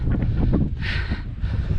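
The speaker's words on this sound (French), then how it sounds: "Le vent il est glacial." Cold wind gusting across the open Aubrac plateau, a steady low roar buffeting the microphone with a brief stronger gust in the middle, no voices.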